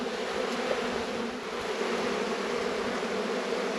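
Honey bees in an open hive buzz during a late-season hive inspection. The swarming hum is dense and steady throughout, close by and with no talking.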